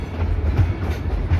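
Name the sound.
Dollywood Express steam train riding on rails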